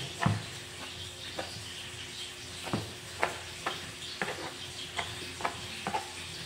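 Tilapia cooks in a pot at a catch-and-cook riverside meal, giving a faint, steady bubbling hiss broken by soft, irregular ticks and taps, with no voices.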